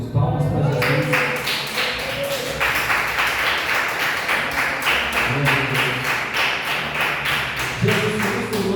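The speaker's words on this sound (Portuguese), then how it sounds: "Dá glória a Deus, meus irmãos. Palmas para Jesus." A church congregation claps hands in praise, a rhythmic, fairly close run of sharp claps throughout, with sung or spoken voices mixed underneath.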